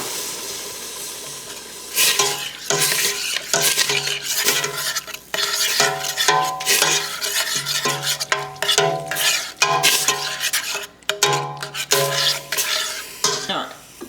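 Broth being stirred into a pot of vegan okra soup with tomato paste, a steady run of close scraping, sloshing and spoon-on-pot clinks with a faint sizzle underneath, no talking.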